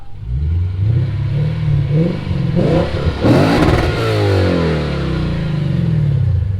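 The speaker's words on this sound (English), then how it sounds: "Maybe I should give it a rev." A car engine revs up hard, rising and falling in pitch over a steady loud rumble, with a sharp high roar in the middle.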